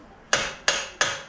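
A hammer strikes the driveshaft of a Volkswagen Golf 5 GTI during repair, giving three sharp metallic blows in steady rhythm, close and loud, each decaying quickly.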